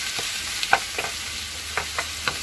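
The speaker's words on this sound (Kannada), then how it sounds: "ಹಸಿ ವಾಸನೆ ಹೋಗೋವರೆಗೂ ಹುರ್ಕೋಬೇಕು ಇದೆಲ್ಲ." Onions fry in a pan with a soft, constant sizzle while a spoon scrapes and stirs them in several short, separate strokes, heard close up.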